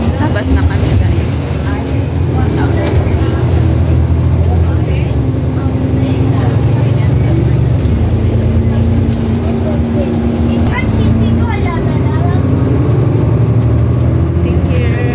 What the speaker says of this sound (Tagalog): Still here in the bus.